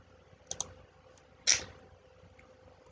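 A computer mouse clicks a few times on a desk, with a close double click and then a sharper single click, quiet and isolated against a faint hum.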